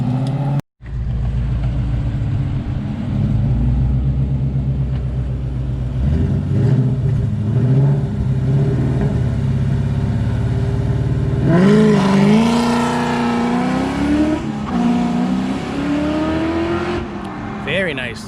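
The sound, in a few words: Coyote-swapped Mustang notchback revving and accelerating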